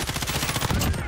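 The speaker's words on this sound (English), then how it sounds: "I'm being shot at" Rapid bursts of automatic gunfire in Call of Duty Warzone, a dense fusillade of close, loud shots rattling continuously.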